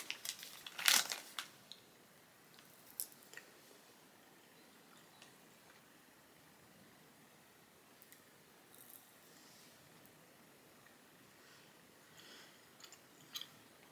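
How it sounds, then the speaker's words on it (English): Crunchy bites of watermelon-flavoured tahini sweets bought in Cancun, a sharp loud crunch near the start and then a few faint crinkles and small clicks in a quiet room. "Got these sweets at the airport in Cancun. Watermelon tahini."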